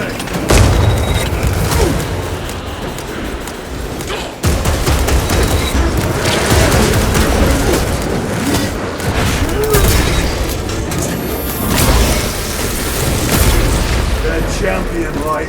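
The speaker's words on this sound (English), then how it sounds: "Deploying shock grenade" A shock grenade detonates in the Warhammer 40K Space Marine 2 video game, a loud blast set within a dense, continuous din of gunfire and battle noise that stays heavy throughout.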